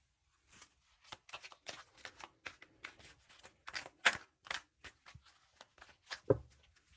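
Tarot cards being shuffled by hand, soft papery riffles and flicks repeating in short uneven bursts, close and quiet with no talk over them.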